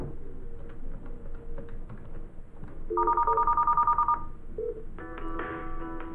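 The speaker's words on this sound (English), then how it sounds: "One, by dialing the number yourself." Keys are pressed on a Cisco office desk phone, producing a quick run of short dial tones followed by a ringing call tone, with soft button clicks beforehand, close and clear.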